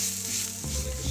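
Tomato paste hitting a hot pan for a creamy mushroom brandy pasta, a brief close hiss of sizzling with a low thump partway through as it lands, no talking.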